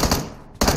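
Loud automatic gunfire from the PUBG Mobile game, rapid bursts at the start and again after a short lull, with no talk.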